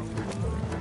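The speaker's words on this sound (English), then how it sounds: "Slow down. You'll burn out the horses." Horse hooves clip-clop in Red Dead Redemption 2, a quick run of close, steady hoofbeats during a gallop within a single short moment.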